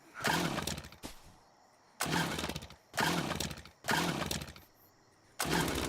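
A chainsaw in the video game Yeeps tears into a house, loud harsh bursts of grinding and breaking debris repeating in roughly one-second surges with brief gaps between them.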